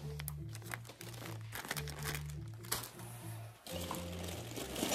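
Close, steady crinkling of a plastic bag holding a large glass goblet being handled, with a low tonal hum running underneath throughout.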